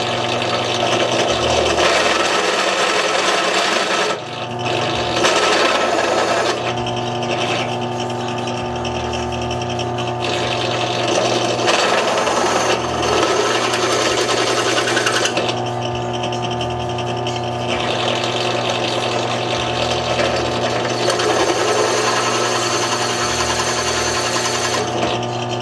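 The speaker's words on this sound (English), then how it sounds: "It's really easy with the drill press" A drill press runs continuously, boring into a TG-1 Hi-Flow racing head for a Predator engine, a loud, steady whirring grind with shifts in load and brief dips, and no voices.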